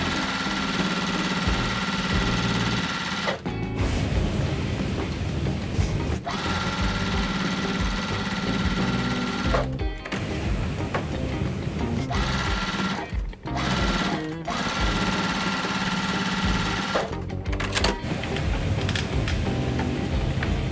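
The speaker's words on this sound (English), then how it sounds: "Then we're gonna go ahead and sew it together." A sewing machine stitches a quilt block for a Halloween cat and spider web quilt, running in long, steady bursts of rapid mechanical whirring, broken by a few brief pauses.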